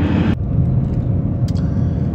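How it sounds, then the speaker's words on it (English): A car drives in traffic around Ottawa, heard from inside as a steady, loud low rumble of engine and road noise, with a brief brighter noise at the very start and no talking. "I guess they have traffic in Ottawa too."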